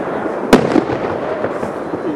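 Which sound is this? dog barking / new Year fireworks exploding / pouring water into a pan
new Year fireworks exploding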